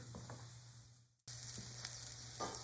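Onions fry and char in a hot pan with a close, steady sizzle, cut by a brief dropout and then resuming with faint stirring taps, no voices.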